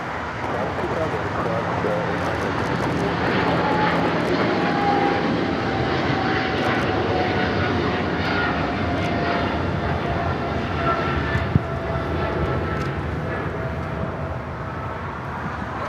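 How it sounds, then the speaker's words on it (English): A Singapore Airlines Boeing 777-300ER takes off from LAX with a broad, steady jet roar holding across the whole span, heard from a distance with faint voices under it. "That is Singapore Airlines Flight 11 taking off to Tokyo Narita on the 777-300ER."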